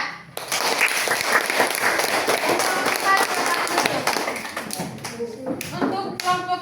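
A classroom group gives lively applause for a student team during an Indonesian language lesson, with steady clapping for several seconds that thins toward the end amid some scattered voices.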